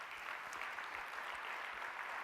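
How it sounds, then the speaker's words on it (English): A conference audience at a plenary session gives steady, dense applause, a continuous wash of many hands clapping together that sounds fairly distant and quiet throughout. "A round of applause for Yehuda."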